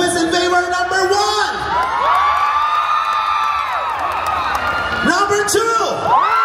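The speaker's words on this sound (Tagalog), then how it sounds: "Gusto ko malakas sa sigawan na may kasamang palakpakan, ha?" An audience at a chicken dance challenge during Kalayaan 2025 in Dubai shouts and cheers loudly to vote, crowd noise rising and falling in waves beneath a host's amplified voice.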